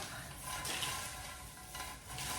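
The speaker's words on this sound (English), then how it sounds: "I'm just going to sprinkle that in there and give it a good mix up." Homemade granola with dried cranberries sprinkled in is stirred up in a bowl, a close, steady dry rustling and scraping lasting a couple of seconds with no talking.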